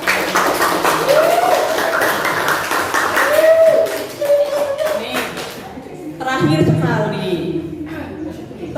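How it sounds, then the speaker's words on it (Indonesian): Students in a junior high school classroom clapping hands in applause, a burst of rapid claps rising then fading, with a teacher talking over and around it. "Tepuk tangan untuk kita semua"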